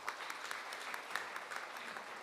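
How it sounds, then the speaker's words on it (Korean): A crowd at a forum on army power claps steadily, a dense patter of many hands spread through a room, moderately loud and sustained without voices. "박수 좀 부탁드립니다"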